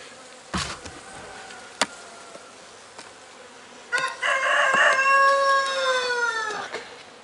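A few honeybees buzz in a small nucleus hive at a Carpathian-region apiary, a couple of sharp taps early, then a louder close buzzing swells for a few seconds, with a rooster crowing in the background.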